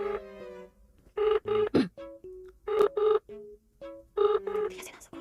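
An unanswered outgoing call rings repeatedly, its ringback tone pulsing in a steady on-off pattern of several bursts, fairly close, with no one picking up.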